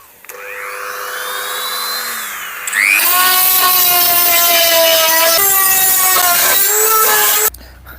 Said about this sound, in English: I'm going to have a little sanding disc. So I'll be able to sand down the edges